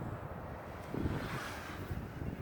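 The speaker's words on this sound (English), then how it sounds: "Man, it's so windy" Strong wind gusting across an RC glider flying field, a broad rushing roar buffeting the microphone with surging low rumble, loud and continuous with no talk.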